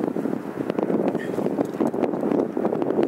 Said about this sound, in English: Wind's blowing out here, folks.